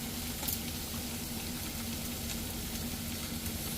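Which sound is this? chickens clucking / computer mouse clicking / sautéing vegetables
sautéing vegetables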